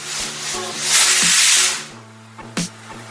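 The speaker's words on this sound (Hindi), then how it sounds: "सीटी आ चुकी है, प्रेशर कुकर का प्रेशर भी निकल गया है" A pressure cooker boiling bathua greens lets off a loud hissing burst of steam, with rhythmic mechanical clicking and rattling underneath and a brief sharp spurt near the end.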